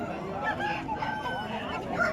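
Roosters at a busy rural poultry market in Pileru, heard as strained crowing and clucking set against a dense, noisy background of crowd and animal murmur.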